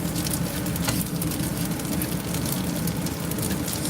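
Eggs and hash browns fry on a flat top griddle with a steady, crackling sizzle and fine spattering, continuous and close, with no voices.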